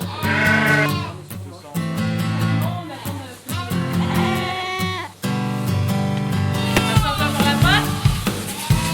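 A flock of ewes on a dairy sheep farm bleat loudly and repeatedly in overlapping, wavering calls. The sound is close and continuous, with a dense chorus of animal voices and no clear gaps.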